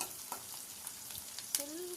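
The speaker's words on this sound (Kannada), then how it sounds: "ಈರುಳ್ಳಿ ಸಣ್ಣದಾಗಿ ಕಟ್ ಮಾಡ್ಕೊಂಡಿರೋ ಈರುಳ್ಳಿ ಹಾಕೊಳ್ಳೋಣ ಒಗ್ಗರಣೆಗೆ" Chopped onion and garlic sizzle in hot oil for a tempering, a steady crackling fry with a few clicks of stirring and a brief rising squeak near the end, with no talking.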